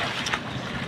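A boat engine runs steadily during a test at Teluk Penyu beach in Cilacap, a constant close rumble mixed with wind buffeting the microphone, with no voices.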